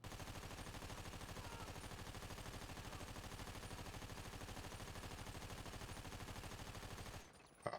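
Sustained rapid SMG fire in GTA5, a fast even stream of shots lasting about seven seconds before cutting off abruptly, moderately quiet and without talk.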